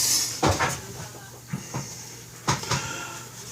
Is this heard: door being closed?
yes